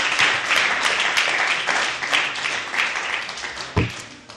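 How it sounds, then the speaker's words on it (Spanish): A church congregation applauds during a Spanish-language worship service, with dense, steady clapping from many hands filling the room, holding fairly even before tapering slightly near the end. "Denle otro aplauso al Rey."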